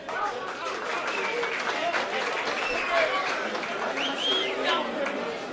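A crowd at an amateur league football awards ceremony claps steadily and densely for the third-place team, a continuous wash of applause mixed with chatter and a voice speaking over it.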